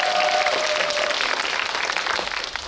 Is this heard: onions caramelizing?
no